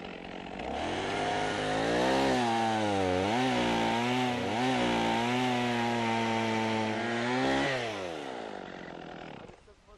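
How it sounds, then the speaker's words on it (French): A chainsaw cutting firewood logs to equal length, its engine revving up and holding a loud, wavering whine through the cut for several seconds before dropping back and cutting off. "Voici comment on utilise la barre de la scie pour que les bûches mesurent la même longueur."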